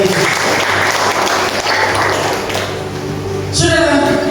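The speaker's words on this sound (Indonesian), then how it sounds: "tepuk tangan yang meriah untuk Tuhan Yesus." A church congregation at a Christmas service in Merauke gives loud, sustained applause that fills the whole stretch, with a voice rising over it near the end.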